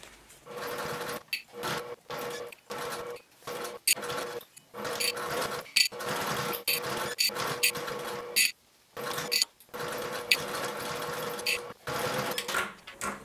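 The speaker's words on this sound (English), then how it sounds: "take this over to your sewing machine and sew with a 1/4 inch seam allowance" A sewing machine sews a bag seam in short and longer bursts of rapid mechanical stitching, stopping and starting repeatedly, close by with no talking.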